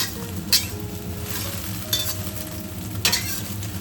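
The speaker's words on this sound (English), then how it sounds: "Flip it over. Cut into small pieces with a spatula." Eggs frying and sizzling in a pan for Chinese-style tomato and egg, cut into pieces with a spatula, with steady sizzle and sharp scraping clinks of the spatula against the pan.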